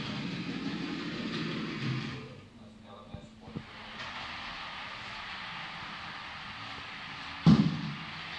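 Model train at a transport museum running back and forth on its track, a steady low rumble and clatter that pauses briefly, then resumes, ending with a sharp knock, with faint voices in the background.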